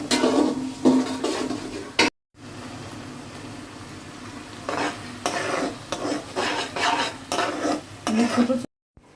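Spices are stir-fried with onion paste and tomato paste in a pan, giving repeated scraping strokes of a spatula against the pan over a low sizzle, close and fairly loud, with a brief cut in the middle.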